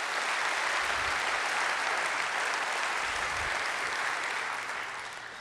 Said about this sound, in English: So let's give them a round of applause and thank you.